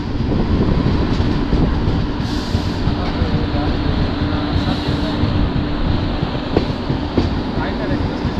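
A train pulls into Kankavli railway station with a loud, steady rumble and rattle of rolling carriages, plus a few sharper clanks, up close throughout.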